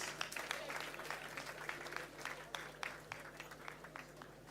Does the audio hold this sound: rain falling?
no